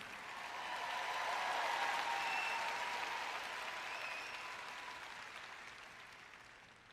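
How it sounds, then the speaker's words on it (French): Audience at a Christian teaching event applauding: dense, fairly distant clapping that swells in the first seconds and then gradually fades away. "vous pouvez applaudir un peu plus fort que ça."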